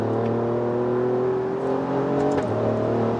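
A 2018 Alfa Romeo Giulia Quadrifoglio pulls hard under acceleration, a steady, loud engine drone with harmonics rising through the gear, then a brief dip and shift near the end, heard close with no talk.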